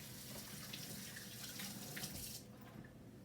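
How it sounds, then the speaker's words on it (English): Hands rinsed under a running kitchen tap: a steady, close hiss of flowing water that stops after about two and a half seconds, leaving a quieter background. "I'm just gonna rinse my hands quick."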